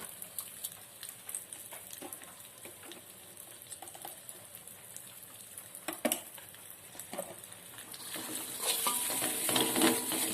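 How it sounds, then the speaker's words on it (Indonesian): Blended spice paste with salt and sugar being stir-fried in a pan over very low heat, a soft steady sizzle with scraping stirs and clinks, growing louder and busier near the end. "Dan ini setelah di blender, maka kita oseng terlebih dahulu agar baunya harum"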